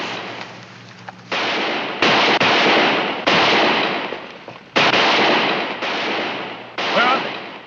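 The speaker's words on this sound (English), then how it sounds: "My warriors shoot in air." Warriors fire guns into the air in an Old West frontier setting. About seven sharp, loud shots ring out at uneven intervals, each with a long echoing decay.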